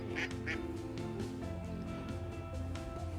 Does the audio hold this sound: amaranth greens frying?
no